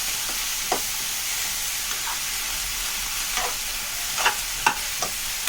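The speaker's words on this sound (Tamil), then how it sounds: "அந்த எண்ணெயிலே நல்லா ஃப்ரை ஆகணும் வெண்டைக்காய்" Okra fries in oil in a pan with a continuous close hiss, punctuated by occasional spatula scrapes and stirring clicks. No one speaks.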